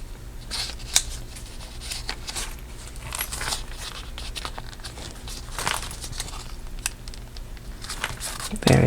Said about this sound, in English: Fold them in to meet